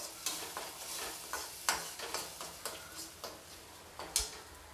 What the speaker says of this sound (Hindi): अब मैं इन सभी मसालों को अच्छी तरीके से तेल छूटने तक भून लूँगी।